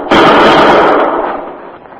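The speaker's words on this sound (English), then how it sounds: "Shots came from that lower window." A gunshot sound effect for a radio drama, fired from a lower window, lands as one loud, close, sharp blast and fades off over about two seconds, with no voices.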